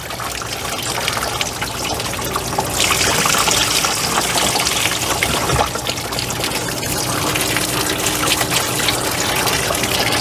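Water from an RV tank with a Thetford macerator pump gushes and splashes continuously into a storage compartment, loud and close, growing fuller and more turbulent after a few seconds.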